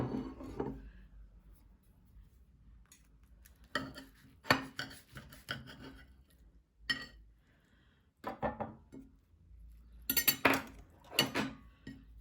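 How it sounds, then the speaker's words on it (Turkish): A knife cuts through a crispy baked börek made with soda, producing a few separate bursts of crunchy crackling and scraping. The cuts are close and fairly quiet, with short pauses between them and no talking. "Sizlere iç dokusunu da göstermek için şöyle bir kesiyorum."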